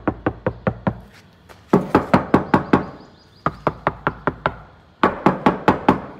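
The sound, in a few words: knocking on a damped Mahindra XUV700 car door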